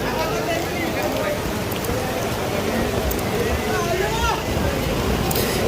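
Steady rain hisses down at the Nizam Gate of the Ajmer Sharif dargah, a dense wash of falling water over the murmur of a crowd entering, with voices talking under it.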